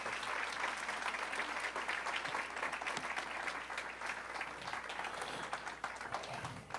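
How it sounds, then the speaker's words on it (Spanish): Congregation in a church gives sustained, dense applause, a steady wash of many hands clapping at an even level throughout, with a faint murmur of voices underneath. "Damos una ofrenda de palmas a Dios por su vida."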